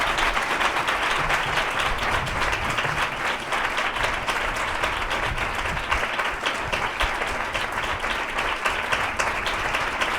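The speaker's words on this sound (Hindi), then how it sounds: "जोर से तालियां यीशु मसीह के लिए" A worship congregation claps loudly and continuously during a sermon service, a thick, even roar of hands lasting the whole stretch without spoken words.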